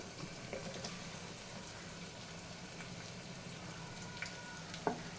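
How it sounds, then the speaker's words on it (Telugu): Cut potatoes fry in oil with turmeric for a black chickpea curry, a soft, steady sizzle close by with occasional faint pops and one sharp tap near the end. "ఆలుగడ్డ, ఇవి వేయాలి నూనెలో."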